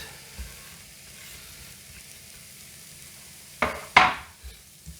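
Chopped onion and shallot sautéing in butter in a frying pan, with a soft steady sizzle and a few sharp clatters of a utensil stirring against the pan.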